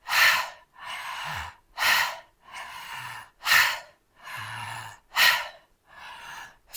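Rhythmic breathwork with strong, close breaths that alternate between sharp gasping inhales and longer, rushing exhales, about eight even cycles with no talking.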